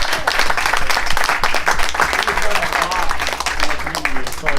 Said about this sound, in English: can we get a round of applause for Mark?